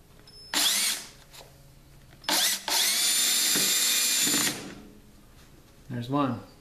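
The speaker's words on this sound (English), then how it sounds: "Drilling the screw" A power drill drives a screw into wood for a hexagon game table, with a short whir, then a longer sustained run that winds down, and a voice speaks briefly at the end.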